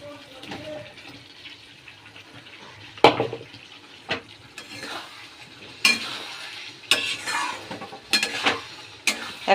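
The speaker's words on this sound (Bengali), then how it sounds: "এবার এই ভাজা আলুগুলো দিয়ে দেব" Fried potatoes go into a pan of cooked-down spiced masala and get stirred, giving irregular scraping strokes and short sizzling bursts, fairly quiet and close, growing busier toward the end.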